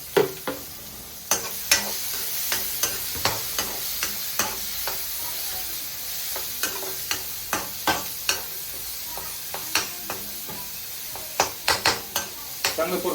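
Chopped onion sautéed in a pot for toor dal, with a steady sizzle of frying under repeated crisp knocks of a spoon against the pot, about two per second at first and then irregular, close and loud.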